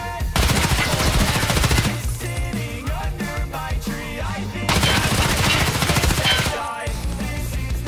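Rapid automatic gunfire from an Escape From Tarkov match on the Factory map, loud and dense bursts of firing that come in waves with a brief lull around the middle, mixed with game music and effects and no talk.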